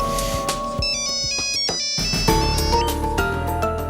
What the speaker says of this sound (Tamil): ஐயோ பிரியா ஃபோன் பண்றா.